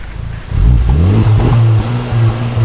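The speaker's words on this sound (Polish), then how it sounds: "bardziej słyszę silnik, tak?" A Honda car engine revs up sharply, climbing in pitch and loudness, then holds a strong, throaty growl close by with brief dips between pulls.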